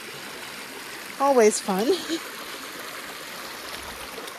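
A stream crossed on a hike in Moab, Utah, trickles and rushes steadily in the background, while a person speaks briefly over the water partway through.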